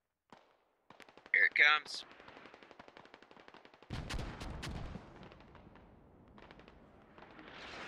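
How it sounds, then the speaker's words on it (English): Incoming mortar fire in the military video game Squad Ops: rapid crackling gunfire and a sharp burst, then a deep thudding impact around the four-second mark, with further distant shots and bursts, while players talk over comms. "Oh, more mortars coming in."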